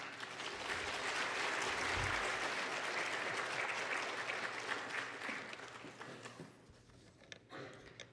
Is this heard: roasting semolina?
no